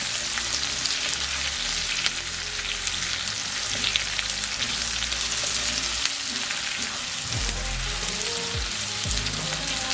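Garlic, ginger and asparagus sauté in a pan, giving a continuous bright sizzle with occasional low scraping thumps as the vegetables are moved around.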